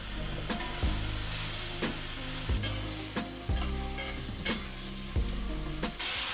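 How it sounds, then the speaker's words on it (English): Chopped meat frying in sunflower oil for a Turkish white bean stew, with a steady close sizzle broken by repeated stirring scrapes and clatters at a loose rhythm, no voices. "Add some sunflower oil and fry the meat for 5 minutes."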